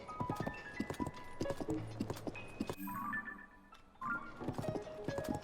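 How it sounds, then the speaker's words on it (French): Horse hooves clip-clop at a steady trotting rhythm in Zelda Tears of the Kingdom, with dense repeated thuds, a brief snort or whinny midway, and quiet game ambience beneath. "On va faire une petite excursion en cheval, ça vous dit un petit peu?"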